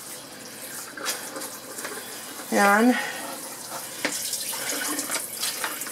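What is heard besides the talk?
cold water running from a tap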